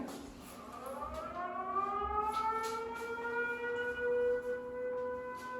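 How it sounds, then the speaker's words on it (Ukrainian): An air raid siren wails with a slow rising and falling pitch, sustained and somewhat distant, with no voices present. "Так, це є сигнал повітряна тривога."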